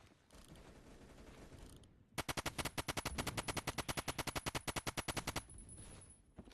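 An automatic rifle in Phantom Forces fires a long sustained burst of evenly spaced, crisp shots for about three seconds, loud and rhythmic, with quieter game ambience before and after.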